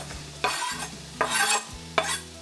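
Chopped red onion and sausages cooking in a pan on the hob with no oil, a steady sizzle broken by three louder scraping stirs; no talking.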